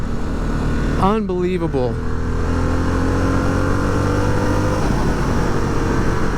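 A 2022 Harley-Davidson Sportster S engine rumbles steadily and close throughout, with a short burst of rising and falling revs early on before it settles into a constant drone; someone speaks briefly over it.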